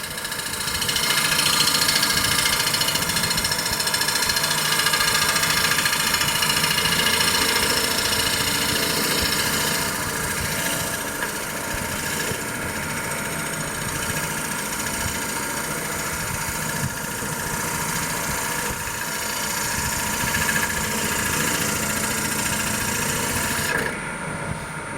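A wood lathe turning a maple candy dish, a smooth steady motor whir with a faint hiss of the cutting tool, running unbroken and fairly loud throughout.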